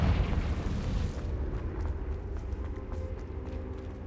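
A Confringo fire spell explodes in Hogwarts Legacy, a loud rumbling boom at the start that fades into a sustained low roar with crackling.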